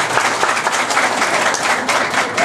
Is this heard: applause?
yes